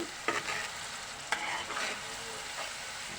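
Rohu fish with spices stir-fried in a pan gives a steady sizzle, with a few sharp scraping strokes of a spatula near the start and middle; close and moderately loud, no voices.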